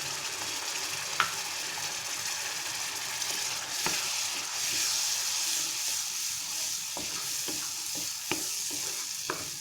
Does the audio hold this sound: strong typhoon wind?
no